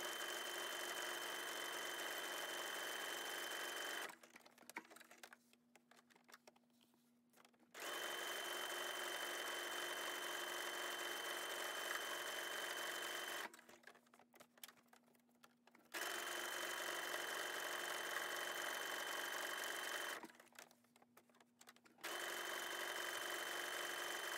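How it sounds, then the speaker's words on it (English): A sewing machine runs a zigzag stitch around the edge of a handmade junk journal booklet, whirring steadily in three long bursts separated by short quiet pauses, close and loud with no talking. "put it on my zigzag stitch and stitch it all the way around"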